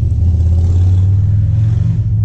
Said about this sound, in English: Excuse the Harley cruising through.